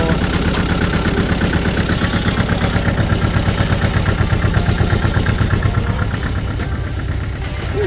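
A farm tractor engine idles steadily close by with its brake set, a low, even rumble with a regular pulsing throb that holds constant and eases only slightly near the end, with no talking.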